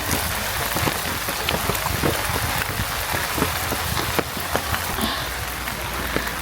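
Rain patters steadily on a backyard farm, a dense continuous hiss dotted with distinct nearby drops striking surfaces, with no talking.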